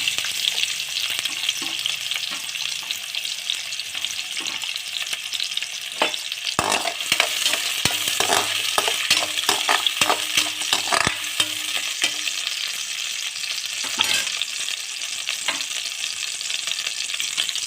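Chopped big onions with cardamom and cloves sizzling loudly in hot oil in a pan, a steady continuous fry with bursts of crackling and occasional stirring scrapes, no voices.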